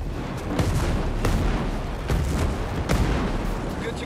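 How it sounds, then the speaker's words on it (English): Mortar fire in the shooter video game Ghost Recon Breakpoint, a string of heavy booming impacts landing every second or so, loud and near, over a rumbling low-end battle backdrop. "Mortars, get down now."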